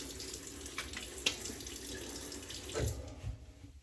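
Tap water runs steadily into a sink before a shave, a soft continuous hiss with a few small splashes and clinks near the end, close and quiet.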